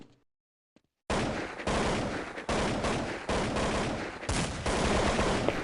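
Desert Eagle pistol shots from a Counter-Strike tournament match on de_nuke burst out loudly after a second of near silence, coming as a string of heavy, closely spaced volleys separated by short gaps.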